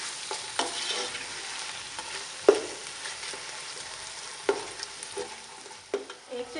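Chicken pieces frying in a pan for hot and sour chicken vegetable soup, a continuous sizzle punctuated by a few sharp spatula scrapes and knocks against the pan.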